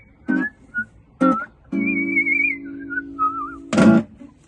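A person whistles a short wavering tune over a sustained low chord, with a few brief thumps and knocks before and after, close and clear.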